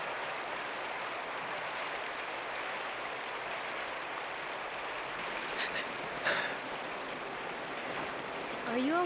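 Steady rain falls in an outdoor setting, a dense continuous hiss without a break, with a brief louder patter or splash partway through.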